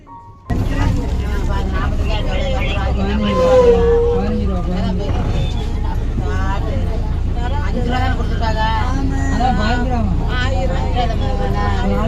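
Riding inside a two-by-two-seat city bus, with steady engine and road rumble filling the cabin and passengers chattering in the background throughout.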